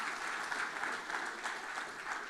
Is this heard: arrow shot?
no